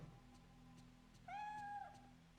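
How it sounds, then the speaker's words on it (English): In the video game Fatal Frame 3, a cat gives a single drawn-out meow, clear and fairly close, rising out of a quiet backdrop of low hum and faint ticking. "The cat is awake now."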